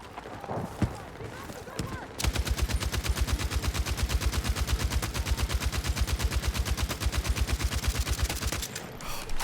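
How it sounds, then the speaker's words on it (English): A machine gun in a Battlefield multiplayer match fires a long sustained burst of rapid, evenly spaced loud shots for about seven seconds, preceded by a few scattered bangs and game noise. "what a great machine gun."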